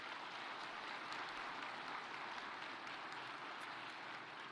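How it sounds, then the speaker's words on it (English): Steady, dense applause from a large audience at an agricultural presidential summit welcoming a head of state, evenly sustained and fairly distant, with no talk over it. "Let's give him a round of applause, please."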